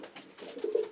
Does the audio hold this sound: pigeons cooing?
yes